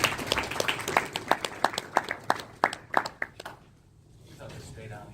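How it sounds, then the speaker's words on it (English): Applause from a conference audience welcoming a speaker about AI and blockchain: a brief patter of claps that thins out and fades after about three seconds, with some talking mixed in. "David Cohen, this round of applause."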